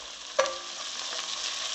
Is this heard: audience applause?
no